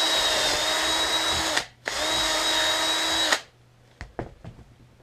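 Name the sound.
power drill drilling a hole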